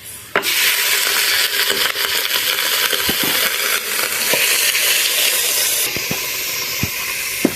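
Chopped onion and green capsicum hiss and sizzle in a hot pan, with sharp scraping and clinking stirs of a utensil at irregular intervals over the steady frying noise.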